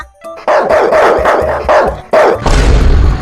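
A dog barks loudly and close by, a series of about six rhythmic barks followed by a burst of rough noise, with no talking.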